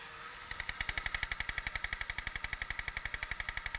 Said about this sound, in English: He has the lighted head and a machine gun that sways back and forth.